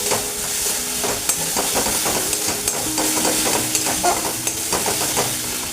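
A bay leaf sizzles in hot oil with egg and garlic masala, a loud continuous frying hiss with repeated stirring scrapes and knocks against the pan, and no talking.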